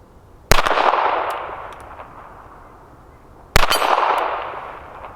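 Two sharp, loud shots from a Smith & Wesson Model 317 .22 revolver fired at a target, spaced about three seconds apart, each followed by a ringing decay.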